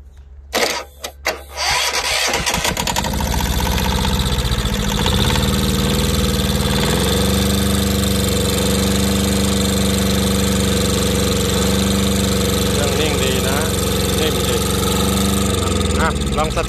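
An old Japanese Yanmar two-cylinder 9.5 hp diesel engine, a used unit converted for farm work, cranks briefly with a few sputters, then catches and settles into a loud, steady, close idle with a knocking diesel chug.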